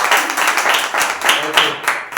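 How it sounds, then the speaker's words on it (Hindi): A church congregation at a Wednesday evening service claps softly together, a short run of gentle, fairly even claps with a little background murmur. "एक धीरे से ताली बजाएंगे।"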